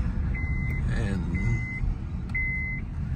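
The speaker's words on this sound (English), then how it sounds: "that beeping noise is the seatbelt indicator." A car's seatbelt warning indicator beeps repeatedly inside the vehicle, a steady high tone that comes in regular half-second bursts over loud engine and road rumble, with some movement noise in between.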